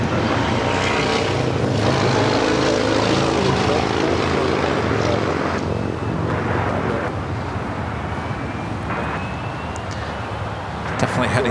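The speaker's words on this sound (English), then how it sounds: "It's an A320." An Airbus A320 airliner at Los Angeles airport, a loud sustained jet engine roar that swells and slowly fades, with voices talking over it.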